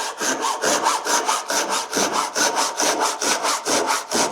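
A Japanese back saw cuts through wood in smooth, light strokes, each rasping pass close and distinct in a steady rhythm of about two strokes per second, with no voices.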